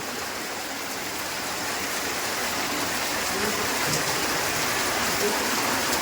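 Heavy rain pours without letup in the morning, a thick, steady rushing hiss like running water, close and full, growing slightly louder, with no talking.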